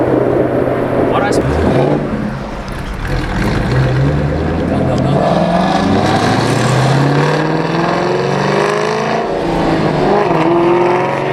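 A Ford GT500 revs its exhaust on a city street, a loud continuous engine roar with rising and falling pitch that runs nearly throughout, close by and heavy, with voices talking over it.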